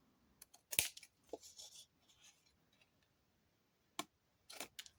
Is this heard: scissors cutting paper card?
yes